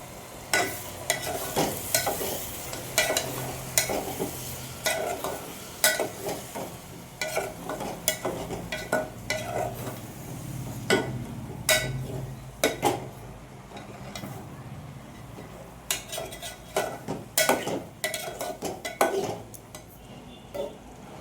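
Moth beans (matki) being stirred and sautéed in a pan for Kolhapuri misal, with a steady sizzle broken by frequent sharp scrapes and clinks of a spoon against the pot, close and busy throughout.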